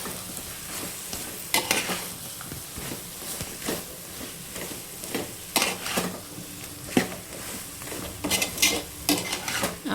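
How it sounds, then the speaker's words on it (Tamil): Vegetables being stirred in a pan with turmeric and chili powder: a steady sizzle of frying under repeated scraping strokes of a spoon against the pan, close and fairly quiet, with no talk. "மஞ்சத்தூள், மிளகாய்த்தூள் ஆட் பண்ணி மிக்ஸ் பண்ணி விட்டுக்கலாம்"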